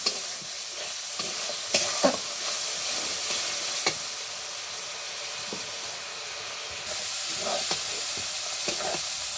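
Dried lotia shutki fish frying in oil in a pan, a steady bright sizzle throughout with occasional scraping stirs and clicks, growing louder near the end.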